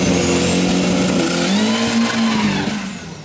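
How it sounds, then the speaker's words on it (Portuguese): Modified cars accelerating at the Interlagos race circuit in São Paulo, a loud, close engine roar that rises in pitch as it revs, then eases off and fades slightly toward the end. "Estou hoje no Autódromo de Interlagos, vários carros animais acelerando hoje"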